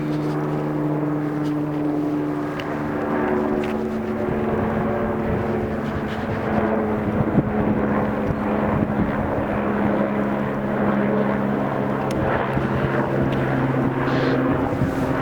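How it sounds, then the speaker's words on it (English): A steady, droning engine passes overhead, a continuous low hum with a faint throbbing quality that holds throughout. "there's an helicopter coming over as I speak"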